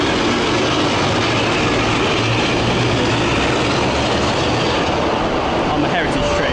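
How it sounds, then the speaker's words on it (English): A diesel heritage train on the East Lancashire Railway rumbles steadily and loudly, a continuous low engine drone with broadband rail noise throughout. "because this is not a steam train, this is a diesel train"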